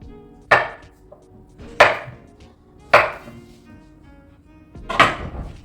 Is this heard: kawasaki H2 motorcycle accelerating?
no